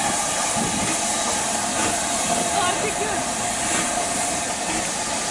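Steam locomotive 45407 Lancashire Fusilier departs on the Jacobite Railway, a steady loud hiss of steam with faint rhythmic chuffing and rail clatter, continuous throughout, with a voice faintly in the background.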